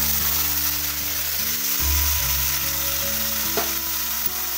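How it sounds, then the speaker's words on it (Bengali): Spice paste sizzles loudly and steadily in hot oil for a soy-chunk, potol and potato curry. The frying hiss runs continuously beneath a sustained low tonal drone. "এবার যে মশলাটা আমি করে রেখেছিলাম সেই পেস্টটা দিয়ে দিচ্ছি তেলের উপর।"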